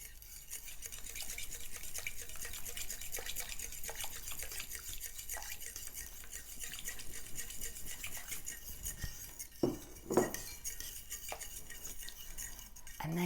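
An egg being beaten into a hot chicken soup base in a pint jar, with soft, quick utensil scrapes and clinks against glass, faint at first and then a few sharper taps near the end.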